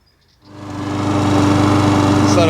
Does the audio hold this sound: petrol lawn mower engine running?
yes